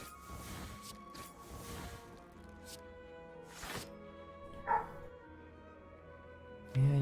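A dog barks and yips in the background during a Slay the Spire card game session, with short scattered barks at moderate distance and a louder burst near the end.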